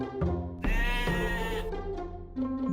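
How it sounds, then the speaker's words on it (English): A sheep bleats in several long, wavering, nasal calls close to the listener, loud and clear with short pauses between them and no talking. "A sheep."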